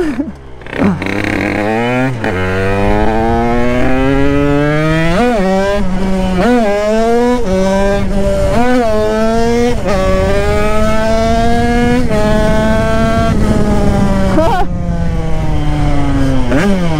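A Derbi 70cc moped accelerates hard, its buzzing two-stroke engine whining upward through repeated gear changes, each shift dropping the pitch before it climbs again, loud and close throughout.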